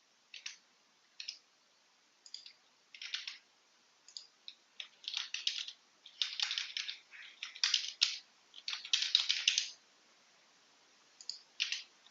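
Sample card payment details typed on a computer keyboard, bursts of quick light key clicks in irregular runs with short pauses, fairly faint and close against near silence.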